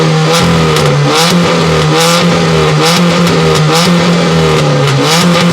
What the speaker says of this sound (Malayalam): അപ്പോൾ നിങ്ങൾ ഇതുവരെ കേട്ടത് വണ്ടി നമ്മൾ മോഡിഫിക്കേഷൻ ചെയ്തതല്ല നമ്മുടെ ഐ ട്വൻറ്റിയിൽ സൈലൻസറിൽ ഹോൾ വീണതാണ്